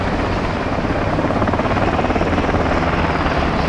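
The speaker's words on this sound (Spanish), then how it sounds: "bloquéalos con el helicóptero" Helicopter rotor chopping steadily and loudly throughout in Call of Duty Modern Warfare II, a dense, continuous whir with fast pulsing beats and no voices.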